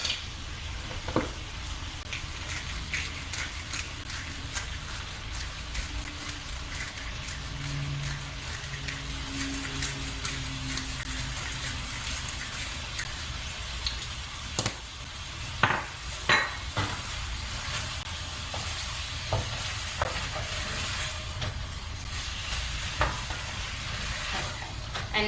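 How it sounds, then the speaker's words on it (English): A tomato pasta sauce with dried oregano and black pepper simmers and sizzles in a pan, with a continuous soft frying hiss broken by occasional louder scrapes and clinks of a utensil stirring against the pan. "And now this will cook for like another 5 minutes."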